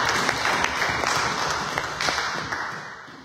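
A church congregation at a Sunday service claps loudly in acclaim of the Lord, a full roomy applause with some irregular louder claps, tapering off slightly by the close.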